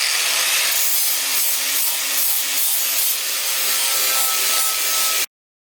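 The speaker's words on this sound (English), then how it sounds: "So we got a 40 grit grinder" A 40-grit Diablo grinding wheel spins on a 4.5-inch angle grinder, scouring rust off a car panel in a steady, loud, harsh rasp that holds for about five seconds and then cuts off abruptly.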